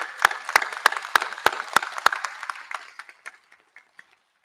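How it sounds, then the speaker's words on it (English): A university commencement audience applauds, clapping that is dense at first, then thins into a few scattered claps and fades out. "So give yourself applause, class of 2020."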